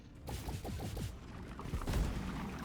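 Explosion in a video game, a burst of booming, crackling blasts with scattered debris-like cracks, loud and close with no talk over it.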